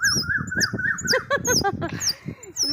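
Loud, repeated Asian koel calls ring out close by, shrill rising notes in quick succession over a busy background with other birds chirping.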